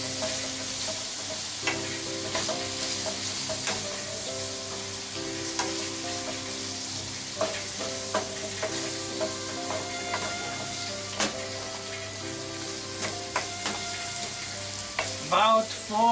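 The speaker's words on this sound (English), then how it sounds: "and fry them" Minced pork with mixed vegetables including burdock frying in a pan, a continuous close sizzle punctuated by repeated utensil scrapes and clinks, growing busier near the end, with no talk.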